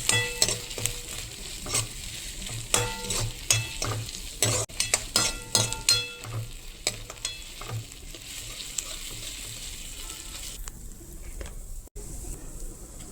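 Ginger garlic paste fries in a pan and is mixed with a spoon, giving a sizzling hiss with repeated rhythmic scrapes and taps against the pan. The sizzle softens toward the end.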